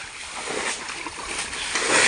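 Water splashing and sloshing as a flooded village field is bailed out to catch fish, a steady, close, fairly loud wash of splashes throughout.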